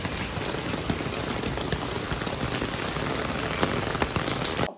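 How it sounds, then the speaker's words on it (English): Pouring rain drumming steadily on a surface, a dense, loud, continuous hiss with scattered sharper drop hits throughout and no voices. "It was pouring rain."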